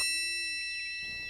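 A single bright bell ding rings out clearly with a long, sustained shimmering decay, standing alone without any talk.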